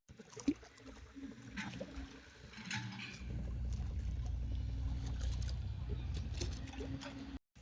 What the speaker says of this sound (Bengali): একটা বহুত বড় একটা জাহাজ আসছে